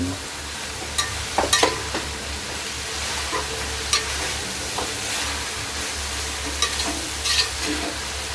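Pansit bihon noodles with banana blossom hiss and sizzle in a hot pan while a utensil stirs and scrapes, giving occasional close clanks over a steady frying rumble.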